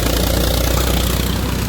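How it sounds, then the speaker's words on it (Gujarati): A tractor engine passing close by on a rural road, a loud, steady low diesel rumble with a rough mechanical throb that holds evenly throughout the short stretch. "બીજું ટ્રેક્ટર નીકળ્યું."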